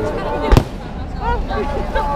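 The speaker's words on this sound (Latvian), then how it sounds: "Čau, salūta." A single firework bursts at a firework festival in Japan, a sharp loud crack followed by crowd noise and scattered voices from an outdoor street setting.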